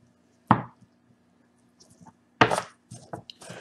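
A knife chops through a slab of St. Louis style pork ribs on a board, two sharp heavy thuds with scraping and light knocks between, close and isolated.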